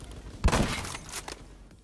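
A burst of gunfire in the Phantom Forces shooter game, one sharp loud crack followed by a rapid ragged string of shots that tails off, with no talk over it.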